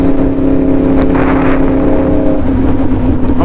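A Yamaha R1 sport motorcycle's engine holds a steady, close, loud drone with layered harmonic tones, swelling slightly before easing back, with some wind buffeting mixed in.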